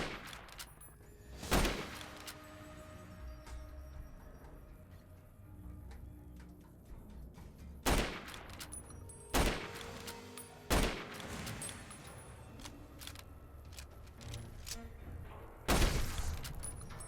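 Varmint rifle shots in Fallout: New Vegas, five sharp isolated cracks spaced several seconds apart over a quiet background of faint ticking and ambient tones.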